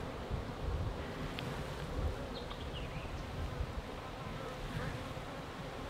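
Honey bees hum steadily around an open hive during an inspection, a dense continuous drone with faint wind and rustle, no speech over it.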